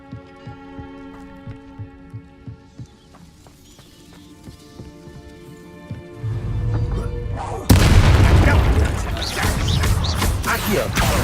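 Bombarda explosion spell going off in Hogwarts Legacy, a deep booming blast that bursts in loudly and then rumbles on amid other game effects, following softer rhythmic thuds and tones.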